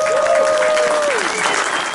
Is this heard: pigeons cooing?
no